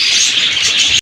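Pigeons in a loft give a short, bright burst of chirpy calling lasting about a second, close and fairly loud, ending abruptly.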